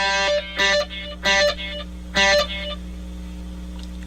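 An electric guitar with distortion and delay plays a few short bursts of sustained distorted chords. Echo tails ring out between the bursts, and the phrase ends with quiet lingering repeats.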